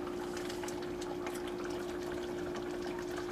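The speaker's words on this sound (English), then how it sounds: "let it uh, sit here and uh, cook, bubble, stuff like that" A pot of slumgullion stew simmers on the stove, giving a steady close bubbling and gurgling over a constant hum, with a fine crackle of small bursts throughout and no talk.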